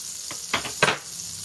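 Butter in a pan cooking delicata squash gives a soft sizzle, close, with a few brief stirring or scraping bursts rising above it.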